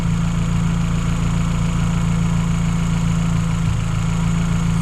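MK4 Vauxhall Astra GSI engine idling with a misfire, a loud, close, steady low rumble with an uneven stumble in its beat.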